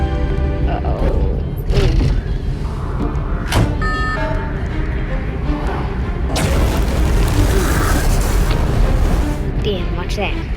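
Explosion in the video game Don't Press the Button 4: a burst of booming blasts sounds amid dense, loud game noise and music, with a sharp impact near the middle and a rumbling swell toward the end.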